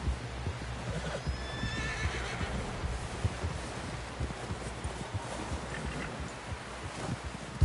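A horse whinnies briefly near the start over steady outdoor noise and shuffling hoof movement, with wind buffeting the microphone throughout.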